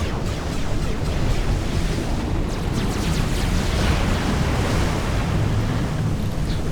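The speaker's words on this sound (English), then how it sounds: "That's really weird wave action there." Continuous ocean surf from Forged Alliance fills the scene as a dense, steady wash of rolling waves, loud and unbroken, with a rough wind-like hiss throughout and no talking.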